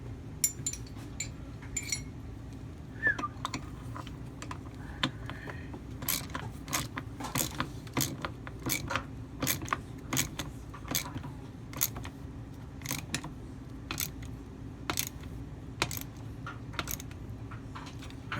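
Metal parts of a Kawasaki KE100 motorcycle engine case being fitted together and tightened, giving a steady run of sharp clicks, ratcheting ticks and clinks at close range over a low mechanical hum, with no talking.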